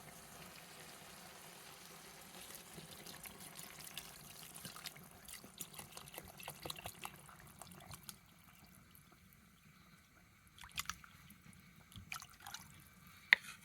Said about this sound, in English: The next thing we have to do is add some water.